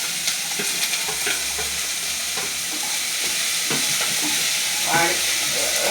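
Ginger, green chillies and curry leaves sautéed in a pan give a loud, dense, steady sizzle. Stirring utensil taps and scrapes come through at irregular intervals, close by, with no speech.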